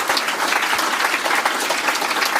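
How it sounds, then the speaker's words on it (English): Supporters at a Liberal Party election night event in South Australia burst into sustained, dense applause that stays loud and even throughout the brief moment. "Yes, a big round of applause for them."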